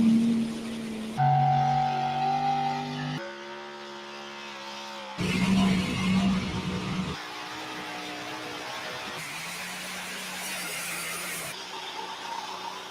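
Truck and tractor pulling engines at an NTPA Grand National event in Farley, Iowa rev hard in a series of abrupt segments, each a loud sustained drone that shifts pitch as the throttle changes.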